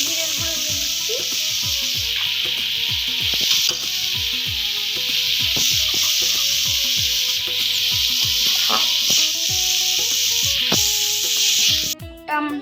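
Cumin powder fries in a pan in a loud, continuous sizzle and hiss, with a steady run of wooden spatula taps and scrapes and a brief clatter near the end.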